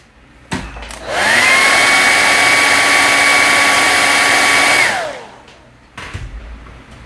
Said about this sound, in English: Hang on, hair dryer time.